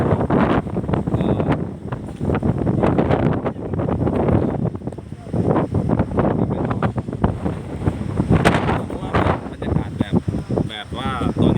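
Strong wind buffets the microphone at a coastal viewpoint in Laem Son National Park, Ranong, Thailand, a steady loud roar with gusts across the whole stretch.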